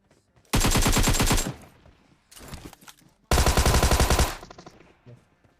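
Two loud bursts of rapid AKM rifle fire in the PUBG video game, each about a second long and separated by a short pause, with a scattering of fainter shots in between.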